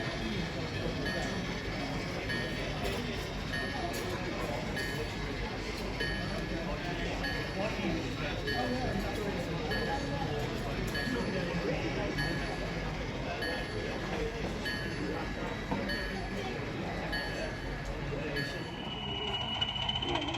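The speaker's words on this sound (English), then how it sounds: "As the locomotive moves over the trestle bridge, a loaded coal train passes underneath." A loaded coal train runs on a 7mm scale O-gauge model railway layout while a locomotive crosses a trestle bridge above, giving a steady continuous rumble with faint clinks amid crowd murmur at an exhibition hall.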